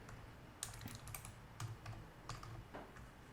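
Computer keyboard typing during graphic design work, sounding as a few soft, irregular key clicks close by, with faint background hum and no talking.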